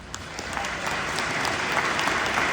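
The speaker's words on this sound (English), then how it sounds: "I think you should give yourselves a round of applause." Dense, steady applause from an audience at a keynote for a municipal federation, a continuous wash of many hands clapping that swells slightly and holds throughout, with no voices over it.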